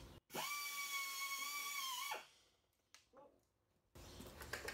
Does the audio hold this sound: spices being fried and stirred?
no